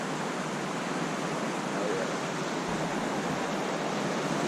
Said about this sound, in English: Pretty sure that's the Mineral Creek.